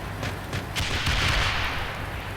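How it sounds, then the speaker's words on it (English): Gunfire in the Steel Beasts Pro tank simulator during a Reforger '87 scenario, a burst of heavy booming shots with a broad rumbling blast sustained and loud for a couple of seconds. "This is 1-1. We're taking fire here."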